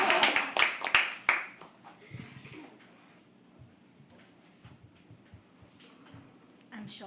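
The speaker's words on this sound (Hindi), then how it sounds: "नाजिया के लिए एक बार जोरदार तालियां।" Scattered clapping from a small open mic poetry audience bursts out loudly at first, then thins into a few faint claps and rustles before fading near silence.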